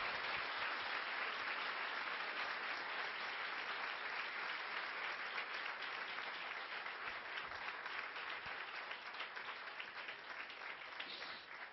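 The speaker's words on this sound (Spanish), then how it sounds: "Dale un fuerte aplauso al Señor Jesús en esta noche." Sustained applause from a crowd, steady and dense clapping that continues throughout at a moderate distance.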